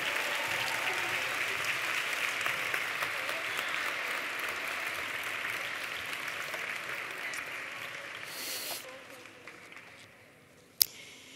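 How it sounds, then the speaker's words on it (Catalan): Applause from the audience at a university graduation ceremony for translation and interpreting graduates: a steady, moderately distant wash of many hands that gradually tapers off, ending with one sharp knock. "Un fort aplaudiment."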